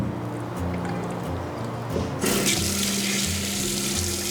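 Tap water runs steadily over squid tentacles being rinsed clean in a kitchen sink, bought for a fried squid dish; the flow grows louder and brighter partway through, with no talking.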